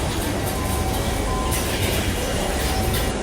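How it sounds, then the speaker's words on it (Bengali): Dhaka metro rail train standing at a station on the Mirpur 11 to Dhaka University line as passengers step off, with a steady, loud rumble and hiss filling the whole stretch. "এই যে দেখতে পাচ্ছেন ট্রেন থেমে গেছে, যাত্রীরা নামতেছে, আমরা হচ্ছে ভিতরে ঢুকতেছি।"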